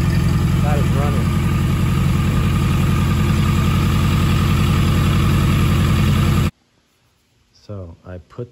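A Yamaha XJ 750 motorcycle with Seafoam-treated carburetors idles steadily and loudly up close for several seconds, then cuts off abruptly before a short spoken remark.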